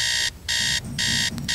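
A phone alarm blares in loud repeated electronic bursts, three long beeping tones separated by short gaps, with no talk over it.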